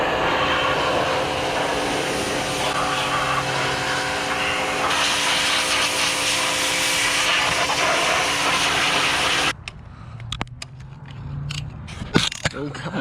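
A wire wheel scrubbing a junkyard 5.3 V8 engine block for a 240sx swap, a loud continuous whirring grind for about nine seconds that cuts off abruptly, followed by clatter and a voice.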